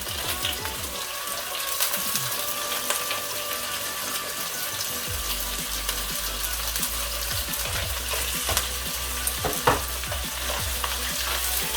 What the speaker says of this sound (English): put your oil in it, and then start with your garlic, and your chilies